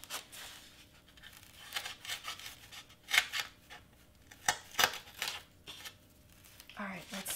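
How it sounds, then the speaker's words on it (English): Scissors snipping around a Cricut-cut craft piece for a Snoopy Christmas prop, a series of short crisp cuts and paper rustles at close range, with quiet talk between them. "So let's cut around this one a little bit."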